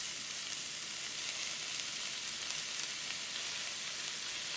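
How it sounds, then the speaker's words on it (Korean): Paprika frying in an oiled pan, a steady close hiss of sizzling oil that holds evenly throughout with no voices. "팬에 오일을 두르고 파프리카를 넣어 앞뒤로 살짝만 구우세요"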